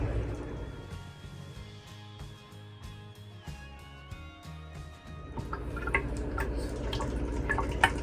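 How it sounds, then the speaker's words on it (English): Water trickling and splashing as it drains from a bowl of rinsed lettuce, with uneven drips and gurgles that grow busier toward the end. "So I'm just draining the water out."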